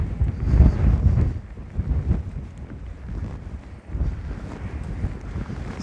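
Strong wind gusting at the seashore during a storm, buffeting the microphone with a low roar that swells and eases in waves, with no voices.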